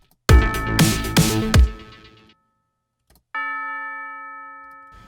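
A bell part in a breakbeat track: a run of bright, ringing tonal strikes with a short rhythmic phrase, a brief gap, then one long sustained bell tone fading out, loud and alone with no talk.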